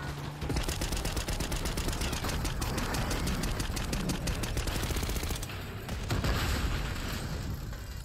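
Heavy automatic gunfire fills a Call of Duty Black Ops 6 campaign mission, a dense, continuous rattle of rapid shots with brief shifts in intensity, loud and close, with no talk over it.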